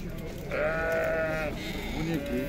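Elite Arashan sheep at the Sokuluk livestock market: one long, clear bleat close by, then shorter bleats, over steady crowd chatter.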